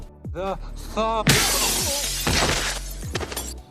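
The glass of a public phone booth shatters in a loud crash with a long, bright tinkling spray of shards, amid movie sound effects and brief vocal exclamations.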